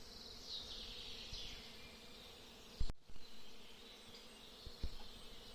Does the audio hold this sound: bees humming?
yes